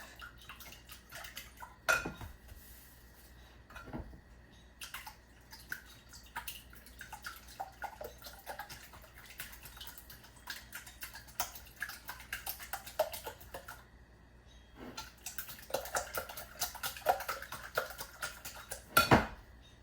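Eggs are beaten in a bowl for a breakfast casserole, giving quiet, irregular clinks and taps of utensil against dish with faint watery sounds and a louder knock near the end.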